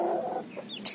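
A rooster and hen clucking in a backyard flock, a short burst of soft, close clucks with a brighter call at the end, no talking.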